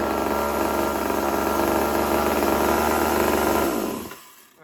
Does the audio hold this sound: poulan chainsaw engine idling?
yes